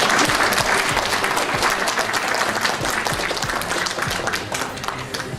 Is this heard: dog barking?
no